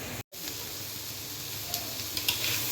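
A vegetable fry sizzles in a pan, giving a steady close hiss with a brief cut near the start and a few small pops and spatters.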